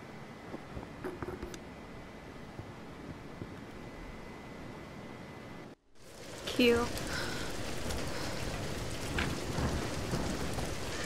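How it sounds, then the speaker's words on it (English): A thunderstorm with steady rain in the Tomb Raider video game, a continuous hiss of rainfall that cuts out briefly, then returns louder with a rumbling thunder crack and denser downpour. "We're getting closer to the storm."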